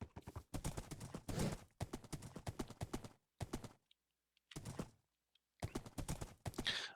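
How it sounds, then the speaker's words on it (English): A fast horse running down a road in Minecraft, rapid hollow clip-clop hoofbeats in quick bursts separated by short pauses, close and clear with no talking. "we're just going to run our nice and fast horse down the road all the way"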